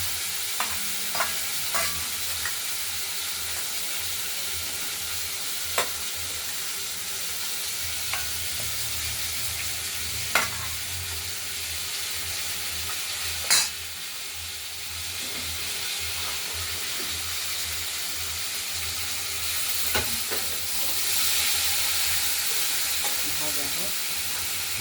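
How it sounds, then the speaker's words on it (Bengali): Cut potatoes and vegetable stems frying in a pan of oil seasoned with bay leaf, dried chilli and nigella seeds, a loud continuous sizzle with occasional clinks of a utensil stirring, close and steady throughout. "এবার এই কেটে রাখা আলু আর ডাঁটাগুলো"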